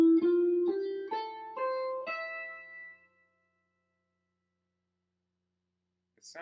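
A beginner-level instrumental phrase from a jazz standard: five clear sustained notes step upward one after another, then ring out and fade into silence, with a faint brief noise at the very end.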